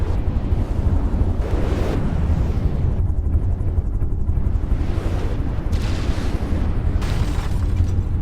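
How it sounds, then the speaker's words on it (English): Torpedo explosions striking the Yellow Submarine in a naval battle video game, loud rumbling booms piling up in a dense continuous roar with several swelling blasts. "Here we see a volley of torpedoes coming in, and it looks like they're all going to land"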